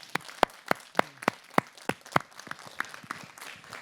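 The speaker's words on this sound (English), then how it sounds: "If you would join me in thanking them through a round of applause" A crowd claps in a short burst of applause, individual claps distinct and rhythmic, gradually thinning out toward the end.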